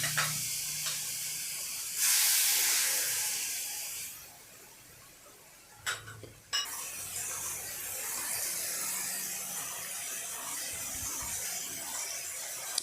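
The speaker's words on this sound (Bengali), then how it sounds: "সেই ম্যারিনেটের পর এই মাংসগুলো এইভাবে আমরা ভেজে নিচ্ছি" Marinated chicken pieces fry in a pan over a low flame, giving a continuous hiss. A loud burst of sizzle comes early, followed by a few clanks and then a softer, steady spatter.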